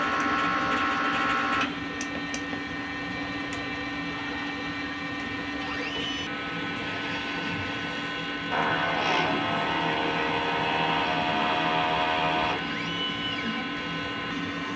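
A DTF printer runs a head-cleaning cycle, a steady electric hum and whine with pump and carriage tones shifting in pitch partway through, heard close with a voice speaking briefly over it.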